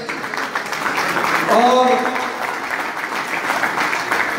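Crowd applause at a pigeon club prize ceremony in Haripur, a steady mid-level clapping throughout, with a voice speaking over it near the middle.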